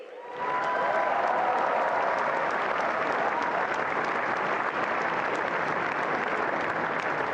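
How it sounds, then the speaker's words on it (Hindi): A large live audience at a youth leaders' event bursts into sustained applause, rising within half a second into a dense, loud, steady roar of many hands that holds for about seven seconds with no talk. "ये तालियां आपके जोश और गर्व का प्रतीक है, इसे थमने मत दीजिए।"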